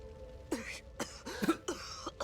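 Several short, harsh coughs in quick succession with throat-clearing sounds from the tactical RPG video game Reverse Collapse, fairly quiet and close, no talking.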